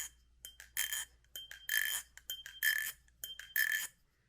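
A steel Icarus knife rings like a bell, a series of bright metallic pings struck in quick irregular succession, each tone hanging briefly before the next, close and clear against a quiet background.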